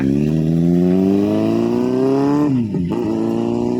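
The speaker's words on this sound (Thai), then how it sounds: "อย่าเบิ้ลแรงนะเว้ย" A motorcycle engine revs loud and close, pitch climbing steadily before dropping sharply and rising again, with no talking.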